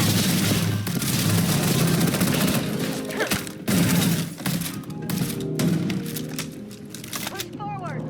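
Sustained gunfire in a Starfield firefight, dense overlapping shots and bursts under a continuous loud din of combat, with a voice talking at points.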